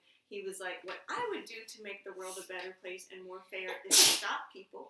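A single short sneeze bursts out near the end, cutting across a woman's steady speech.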